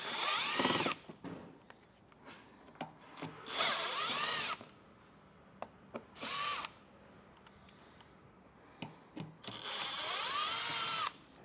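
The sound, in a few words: removing six T15 screws from truck fascia with power tool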